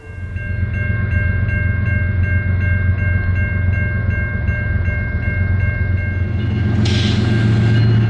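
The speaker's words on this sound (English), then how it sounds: "Week after week, BNSF trains carry gleaming Boeing 737 fuselages from Wichita to Renton." A BNSF freight train hauling Boeing 737 fuselages rumbles past steadily and loudly, with a sustained horn tone running over the low rolling drone of the cars.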